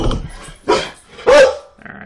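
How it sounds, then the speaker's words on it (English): A dog barks close by, giving a few sharp, loud barks with short gaps and a whiny edge, alone with no talk. "Alright, dog's gonna freak out now."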